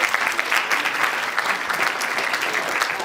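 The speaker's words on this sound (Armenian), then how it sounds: "անգամ էլ ծափահարենք միջին դպրոցին" An audience at a festival opening ceremony applauds the middle school, giving dense, steady clapping that carries on evenly throughout with no speech over it.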